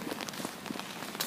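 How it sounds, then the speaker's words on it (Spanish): Rain falls with a soft, steady hiss and scattered close pattering drops, fairly faint and brief, with nobody talking. "Está lloviendo"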